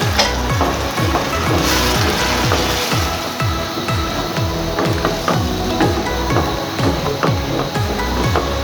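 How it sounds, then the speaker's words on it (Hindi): Ground tomatoes, three medium ones, sizzle steadily in a hot pan of oil for a Pakistani chickpea curry, with frequent spatula scrapes and stirring clatter throughout, close and fairly loud with no talking. "ये टमाटर मैंने ग्राइंड किए हैं, टमाटर डालेंगे"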